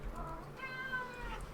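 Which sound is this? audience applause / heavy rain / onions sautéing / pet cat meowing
pet cat meowing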